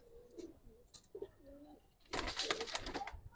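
Old-generation gribaz pigeons in a loft during molting give soft, low coos, followed by a louder burst of rustling and flapping near the end.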